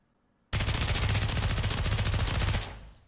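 Sustained rapid automatic gunfire in the VR shooter game Pavlov, a loud continuous burst of rattling shots lasting about two seconds before tailing off.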